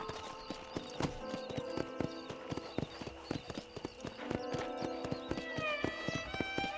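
A horse trots and gallops across open ground in a Western video game, steady clip-clop hoofbeats in a quick rhythm, close and fairly quiet, with a whinny and game music in the background.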